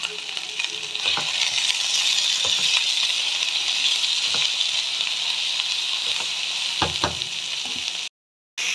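Green chillies and peas fry in a pan for a pumpkin curry, giving a steady loud sizzle throughout with occasional scraping stirs and light clicks of the utensil, then a brief cutoff near the end.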